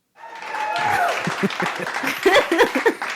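A burst of applause and cheering swells up, with voices calling out and laughing over the clapping.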